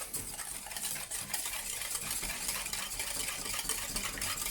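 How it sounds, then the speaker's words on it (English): A hand whisk beats sugar into whipping cream in a bowl with a quick, steady scraping and swishing that stays close and constant throughout. "Gonna whisk in the sugar first before using the machine."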